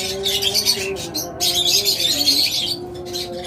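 A pair of lovebirds call in short, bright chirps and squawky tweets, close and fairly loud, in quick irregular bursts with brief pauses between them.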